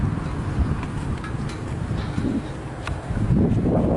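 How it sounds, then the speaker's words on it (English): Wind buffets a microphone outdoors beside railroad tracks, a loud, steady low rumble with gusting swells and no clear voices. "I've got to get out of the wind."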